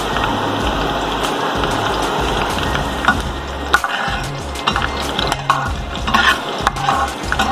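Curry leaves crackle and sizzle steadily in hot ghee for a spicy green chili pickle, a dense continuous frying hiss with scattered sharp pops, close and fairly loud with no voices.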